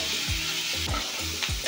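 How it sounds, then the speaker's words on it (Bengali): Frying food is stirred in a pan after steaming under a lid. There is a constant sizzle, and three or four spatula scrapes come at a steady rhythm, close and alone. "সব কিছুকে নাড়াচাড়া করে নিচ্ছি।"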